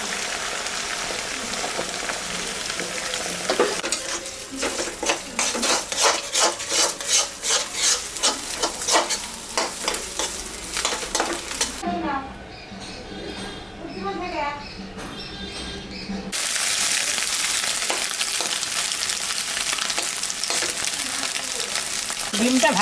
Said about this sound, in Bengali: এখন আমি ডিমটা দিয়ে দেব।